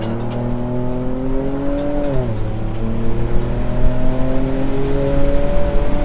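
A 2024 Ford Ranger Raptor with its exhaust in Baja mode rumbles steadily as it accelerates, the engine tone climbing, dipping at a gear change, then rising again, heard from inside the cabin with no talk.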